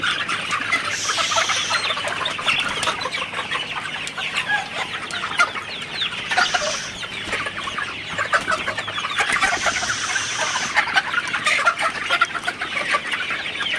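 Many Sonali super hybrid chickens clucking and chattering together in a busy flock inside a poultry house, with a few louder squawks rising over the constant murmur.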